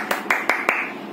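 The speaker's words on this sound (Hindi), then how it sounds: "दीदी के लिए सभी खड़े होके तालियां बजाओ" Four sharp hand claps at a steady, quick pace, close and fairly loud, each a crisp snap with a brief fading tail and no voices.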